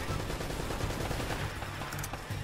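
Turret gunfire in the Uncharted: Drake's Fortune fortress level: rapid bursts of shots blur into a continuous, fairly faint rattle lasting the whole moment, with no voices.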